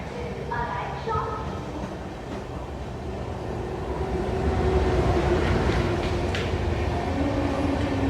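An Indian Railways express train rolls along the line, heard from on board as a steady rumble and rattle of the carriages that grows louder midway, with talk over it.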